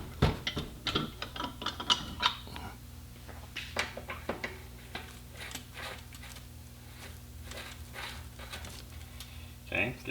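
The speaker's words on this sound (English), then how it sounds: "slide it on over the axle, and you're going to turn clockwise to begin the tightening process" A tool turned clockwise on a bike axle tightens a DT Swiss ratchet hub, giving quick irregular ratcheting clicks up close. The clicks come in bursts separated by short pauses, faint against a quiet background.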